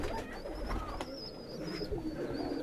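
Pigeons cooing on a rooftop loft, soft repeated coos close by over a low murmur of background noise.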